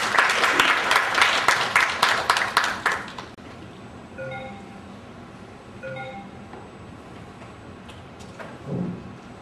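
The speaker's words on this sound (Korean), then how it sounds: "큰 박수로 환영해 주시면 감사하겠습니다" Audience applause at an academic conference session welcoming a business-school professor to the stage, a dense burst of clapping for about three seconds that quickly dies away into quiet room tone with faint clinks.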